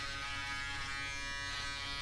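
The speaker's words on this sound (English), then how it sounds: "you can hear these little hairs being cut off by the shaver sometimes" A cheap Braun electric foil shaver runs steadily against a scalp while shaving a head, giving a loud, continuous, even buzz with dense hum throughout and no talk.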